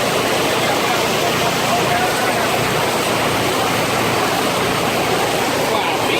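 A heavy rainstorm pours down at a yard sale, a dense, steady roar of rain with no break that fills the whole scene.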